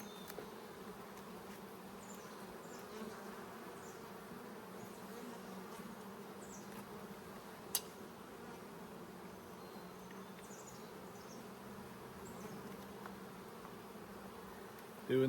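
Honey bees hum steadily around an open hive during a brood inspection, a soft continuous buzz with faint individual bees passing close now and then.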